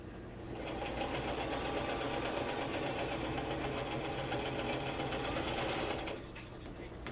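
A sewing machine runs steadily, stitching small stitches with a continuous mechanical whir and rapid needle rhythm, close and loud, before winding down near the end.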